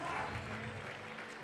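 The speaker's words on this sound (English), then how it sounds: "Even the judges applauding that." Applause for a climber at the men's boulder final of the Austrian Climbing Championships, a brief dense patter of clapping from the crowd with faint voices underneath.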